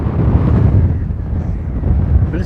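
Strong wind blows along an estuary shore on the England coast path near Southend, where kite surfers are out. The gusts make a loud, constant rumble and buffet against the microphone without pause, and nobody speaks.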